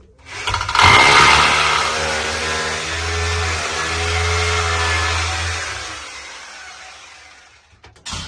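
A power screwdriver drives the last screw into a stand for a small home poultry setup, a loud steady motor whine with a brief pause mid-run, then stopping near the end.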